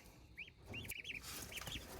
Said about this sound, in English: a blue rock chicken, that's really what I call a mixed breed